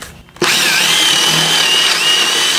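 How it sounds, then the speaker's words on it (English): A power drill bites into wood while a composting toilet is being built, starting abruptly after a brief quiet moment and then whining loud and steady, close by, with no talking. "Nah, it's just a drill."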